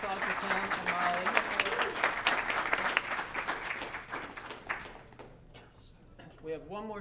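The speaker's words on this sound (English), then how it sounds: "Another round of applause for Ken and Molly." An audience at a Celtic folk concert in a college venue claps loudly and steadily, then the applause thins and fades while someone speaks near the end.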